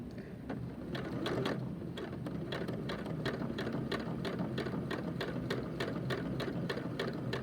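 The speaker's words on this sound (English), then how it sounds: "put your presser foot back down, and continue stitching at about 5/8 of an inch from the seam" A sewing machine stitches a pin cushion seam in a steady, quiet run of rapid, evenly spaced needle clicks, close by and continuous, with no talking.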